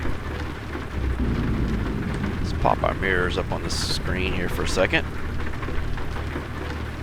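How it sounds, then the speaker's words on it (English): Heavy pouring rain in the American Truck Simulator video game, a steady dense wash with rumbling thunder-like texture, heard throughout under someone talking while hauling a recreational vehicle from Missouri to Illinois. "even though it's pouring rain"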